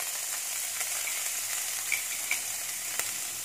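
Vegetables fry with ginger, garlic and chili in a pan for lemon coriander soup, giving a steady, dense sizzle with a few faint stirring ticks, close and continuous without talk.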